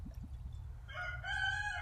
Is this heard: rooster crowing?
yes